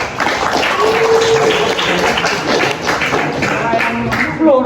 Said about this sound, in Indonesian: Tepuk tangan buat Tisa dan Riha.